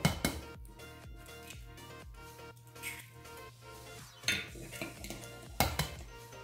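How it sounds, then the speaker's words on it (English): Two eggs go into a Thanksgiving dish mixture, with light clinks and taps of utensils against a bowl and a few sharper knocks, close and fairly quiet, with no talking. "now we're gonna add 2 eggs to this."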